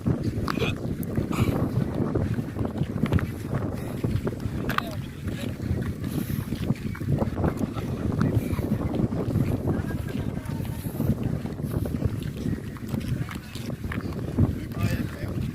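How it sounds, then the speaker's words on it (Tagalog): An outrigger boat engine drones steadily and loudly throughout, its low rumble mixed with gusty wind buffeting the microphone. "Tinisting lang yung, yung ano, yung makina."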